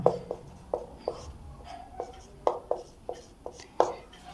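A math problem being written out by hand for a class 12 lesson, a series of sharp taps and short scratchy strokes in an irregular rhythm, close and fairly loud, with no talking.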